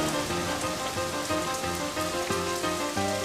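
Heavy rain pours down steadily in a downpour strong enough to cause a landslide, a dense, loud patter on surfaces with no talk over it.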